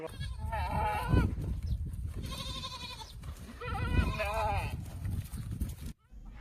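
Several goats bleat in loud, wavering cries that overlap one another, with voices speaking in the background throughout.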